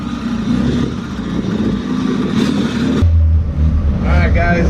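A Honda Civic running on E85 fuel, its engine droning steadily nearby and then shifting to a deeper, louder note partway through, with a voice speaking briefly over it near the end.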